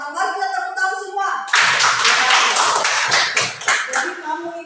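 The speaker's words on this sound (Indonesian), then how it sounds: "Mari kita tepuk tangan semua" Schoolchildren clap their hands together in a classroom, a loud burst of applause that follows a brief voice and then continues steadily for several seconds.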